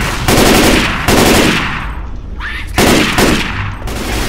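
Bursts of rifle gunfire in Left 4 Dead 2, two to three loud rapid volleys separated by brief pauses, with a short metallic clink between them.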